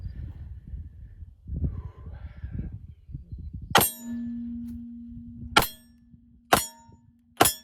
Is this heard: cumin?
no